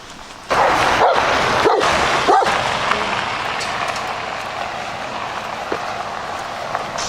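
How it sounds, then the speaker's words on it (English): A dog in a truck barks several times in quick, sharp bursts early on, then fades behind rumbling trucks on a dusty trail and outdoor noise, with a faint yip later. "their truck pulled up with a dog in it, so that's what you hear"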